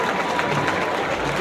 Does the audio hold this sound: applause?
yes